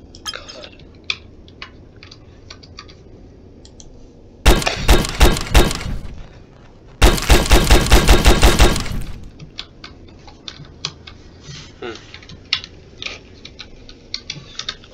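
Rapid bursts of gunfire in People Playground, two loud dense volleys of a few seconds each standing out sharply against quieter clicking and ticking in between.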